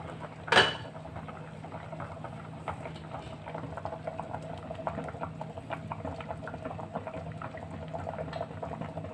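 Pot of moringas and potatoes boiling steadily on a stove, a continuous bubbling and simmering hiss that stays fairly even throughout, with a brief sharp clank near the start.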